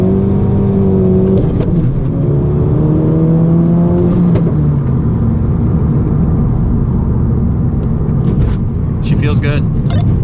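A Volkswagen GTI engine drones under hard acceleration, its pitch rising through a pull and dropping at a shift, loud and continuous from inside the car with people talking over it.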